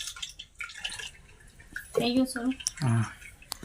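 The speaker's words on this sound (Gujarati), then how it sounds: "આમ સારામાં પાણી બધું નીતાળી નાખવાનું" Water drains and drips off boiled bottle gourd being strained at home, a soft trickle running beneath someone talking nearby.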